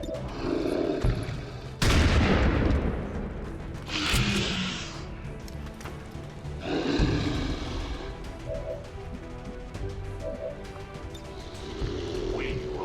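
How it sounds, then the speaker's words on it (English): A ranger fires a point-blank shot in XCOM 2, heard as a sharp, loud blast followed by several more booming impacts and swells of game effects, with no voices. "we get the ranger in for a point-blank shot"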